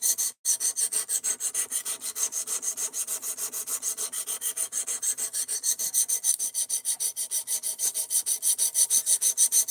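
Knife blade sharpened on a Work Sharp Precision Adjust Professional, a steady back-and-forth rasping stroke repeated rhythmically and closely for the whole stretch, loud and without voices.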